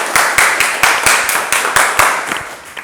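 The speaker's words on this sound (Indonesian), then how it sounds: "tepuk tangan dulu untuk kelompok Mawar sudah presentasi" A small classroom group claps in a brisk, even rhythm for a student group that has just presented, the claps close and fairly loud over a few seconds.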